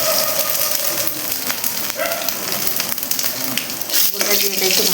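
Whole cumin seeds fry in hot oil with bay leaves and dried red chillies for Bengali moong dal, a continuous bright sizzle and crackle, loud and close, with occasional stirring.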